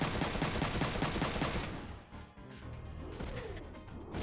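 Shotgun fire in a video game: a loud, rapid string of sharp blasts, then a heavy crash and rumbling impacts that die away into a dull roar, with no voices.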